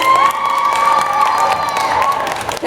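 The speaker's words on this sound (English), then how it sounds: "Start clapping, start cheering." A loud indoor crowd at a South Georgia youth outdoors fundraiser event claps and cheers steadily, with children shouting and a sustained high whistle or tone running through the noise.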